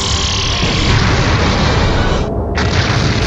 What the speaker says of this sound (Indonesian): Disinilah serangan King Punch Raja Elizabeth II dilakukan.